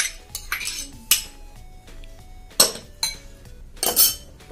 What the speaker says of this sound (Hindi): टोमेटो, कॉर्न सबको मिक्स कर लेंगे अच्छे से।